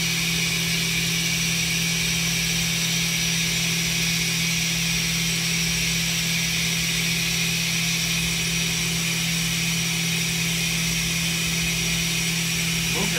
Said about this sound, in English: So that little tool going around there is called an end mill, and that's cutting out the pattern.